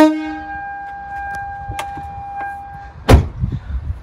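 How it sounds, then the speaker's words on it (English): A truck air horn gives a loud steady blast that cuts off abruptly, followed by a few faint knocks and a sharp thud close by. "installing that air horn system"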